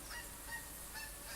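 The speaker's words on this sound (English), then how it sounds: "As you can hear, we've got some geese." Geese honking in a hunting setting, a flock coming in across the hunter: a few faint, distant honks spread over a second or so against a steady hissing outdoor background, with no talking.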